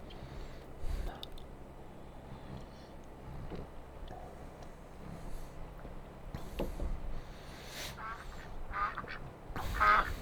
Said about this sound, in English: They're geese. I mean, I get what I'm hearing, but I think it's just a sound effect.